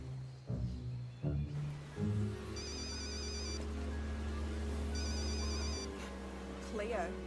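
An outgoing telephone call gives two ringback pulses in the earpiece, with a pause between them. Brief sounds and possible talk come at the start, and a low steady hum runs underneath.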